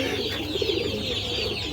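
A flock of Giribaz pigeons at a pigeon market gives a short stretch of low, murmuring coos that blend into a continuous background hum of birds.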